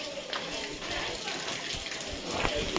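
Rain falls steadily in a village as a soft, continuous hiss with faint patter, fairly quiet and unbroken, with no talking.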